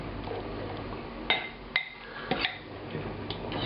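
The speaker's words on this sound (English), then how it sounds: "I'm going to take it out, stir it around just a little bit, make sure everything's evenly coated" Spoon clinking against a pot while braised lamb korma is stirred, a handful of sharp metallic taps and scrapes spread over a few seconds, close and quiet with no voices.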